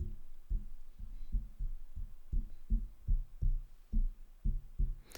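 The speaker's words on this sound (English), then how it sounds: "if I tap the stand, it's gonna sound like this." A series of soft, low thumps, a dozen or so taps in an uneven rhythm, dull and muffled like knocks on a metal stand, picked up by a T.Bone SC 420 USB microphone, with no talking.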